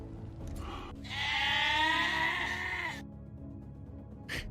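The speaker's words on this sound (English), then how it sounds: "All I can hear is goats." Goats bleat in a video game, one long wavering bleat running about two seconds over a low steady background hum, followed by a shorter faint bleat near the end; no one speaks.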